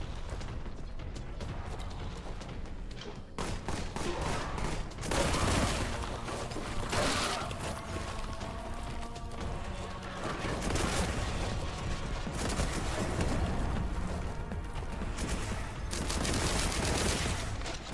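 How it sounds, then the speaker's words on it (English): Sustained machine gun fire from a first-person shooter set in the Warhammer 40,000 universe, rapid dense bursts rolling continuously with brief louder surges, close and loud with no talking. "Oh, it's like a machine gun, bro."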